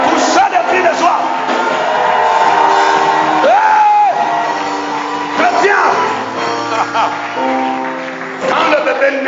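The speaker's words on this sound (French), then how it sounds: "Pour ça des cris de joie." A church congregation cries out and cheers in joy, a loud crowd of overlapping shouts and whoops swelling and fading across the whole stretch, with individual voices rising above the mass.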